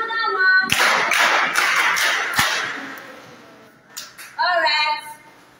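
Hand clapping from a small group at a child's birthday celebration, a burst of claps lasting about two seconds that fades, with children's voices and talk around it.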